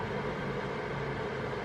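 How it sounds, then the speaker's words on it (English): A space heater whirs steadily close by, a constant broadband rushing hum with no breaks or changes in level. "I'm sorry if you can hear my space heater right now."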